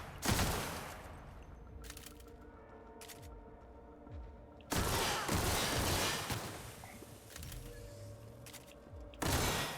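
Gunfire in The Outer Worlds comes as sharp, loud bursts and isolated shots scattered across the scene, with heavier volleys in between and a quieter rumbling background between them.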